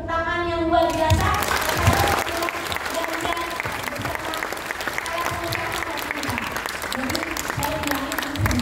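An audience at an economic dialogue bursts into applause welcoming presidential candidate Ganjar Pranowo, a voice speaking at first before thick, steady clapping takes over and continues.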